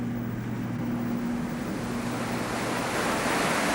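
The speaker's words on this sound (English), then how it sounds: "The river was swollen with thousands of tons of water forcing their way between the rocks." Swollen Caquetá river, an Amazon tributary, rushing between rocks at rapids as a dense, constant roar of water with steady wash and a low hum underneath.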